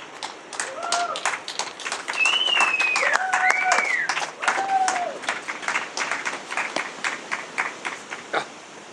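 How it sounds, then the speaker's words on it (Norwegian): Audience applause at a book launch at Vennesla upper secondary school, a steady mass of clapping lasting several seconds with voices and whistles riding over it, then thinning to scattered individual claps near the end. "så vi må gi han en applaus"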